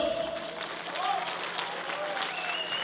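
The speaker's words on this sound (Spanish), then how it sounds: "Les pido amablemente un fuerte aplauso para los novios." Wedding guests applaud the bride and groom in a steady wash of clapping, fairly quiet and distant, while voices and bits of music carry on underneath.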